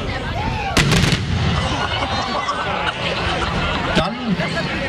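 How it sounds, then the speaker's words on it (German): Firework shells with yellow glitter tails ending in white flash bangs, launched at a pyrotechnics fair: a sharp launch thump followed by crackle and later another bang, set against a murmuring crowd chattering nearby. "Gelbgitterschweif zu Blitzknallweiß, erst ein Stück geschossen. Und jetzt vor den gleichen 5 Stück geschossen."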